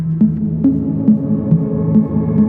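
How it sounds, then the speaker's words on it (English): A sustained synth tone washed in shimmering reverb from a Zoia Euroburo multi-effects module, with a soft pulsing rhythm of repeated notes and a steady hum, with no voices. "I really like the shimmery shimmer reverb effect."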